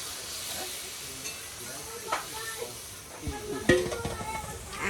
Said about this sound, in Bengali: সেই গরম জল দিয়ে দেবো